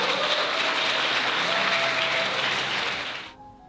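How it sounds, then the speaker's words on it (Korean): Wedding guests clap in congratulation right after the couple is pronounced married, a dense, even wash of applause that holds strong and then fades out abruptly near the end. "다시 한번 축하 박수 부탁드리겠습니다"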